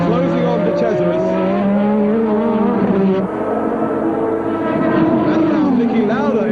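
1983 Formula 1 race cars scream past with high, rising and falling engine whines, a loud, continuous racing roar heard under a commentator's voice.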